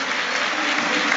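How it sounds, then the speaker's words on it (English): Football stadium crowd at a Premier League match between Manchester City and Brighton applauding in tribute to Franny Lee, a dense, continuous roar of clapping from thousands of spectators. "now there will be a minute of applause for Franny Lee"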